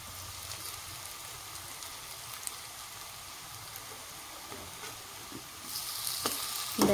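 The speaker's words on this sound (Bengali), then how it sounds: "তো একদম তেল কমে ভাজা ভাজা এই বিস্কিটগুলো কোকোনাট বিস্কিট বলি।" Coconut biscuits fry in oil with a steady, dense sizzle throughout that grows louder and brighter near the end; no talking.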